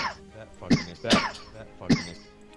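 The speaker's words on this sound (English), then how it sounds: "cough, that COVID cough." Three sharp, raspy coughs from one person, close to the microphone and evenly spaced, with no other sounds around them.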